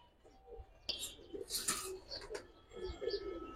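Giribaz high-flyer pigeons, including silver-coloured birds, give soft, low cooing in a quiet loft, faint and intermittent, mixed with light wing rustles and small clicks.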